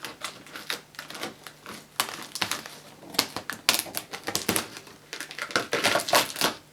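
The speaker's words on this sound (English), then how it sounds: "Let's try and cut into this tape." A blade cuts into packing tape on the box of a vintage 1980s Toshiba Carry Clean VC-410 vacuum cleaner, giving close, irregular scratchy crackles and crinkling bursts that continue throughout.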